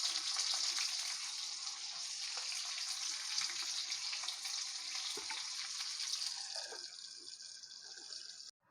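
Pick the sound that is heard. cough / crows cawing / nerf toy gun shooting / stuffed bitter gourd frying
stuffed bitter gourd frying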